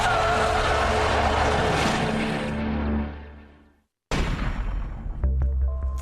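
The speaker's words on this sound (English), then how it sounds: "the amazing XNet can actually stop a speeding vehicle in its tracks" A speeding vehicle roars in loudly with skidding and tire squeal as an XNet net stops it, the noise fading out before a second burst of engine and road noise.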